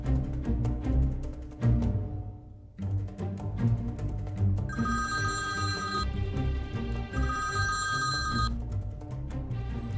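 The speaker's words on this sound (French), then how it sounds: "J'attends avec impatience le coup de fil de Christophe." An old-style telephone bell rings for an incoming call, its bright metallic trill sounding in two bursts over a steady background of music, with no one talking.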